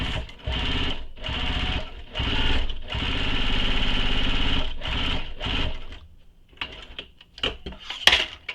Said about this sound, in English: just make sure you're basting the sides and the bottom together within the seam allowance